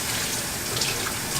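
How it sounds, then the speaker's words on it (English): Warm tap water runs in a steady, close rush while a plastic pineapple slicer is washed under it, with no talking. "So I think first I'm gonna wash this in warm water"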